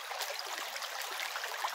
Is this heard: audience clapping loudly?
no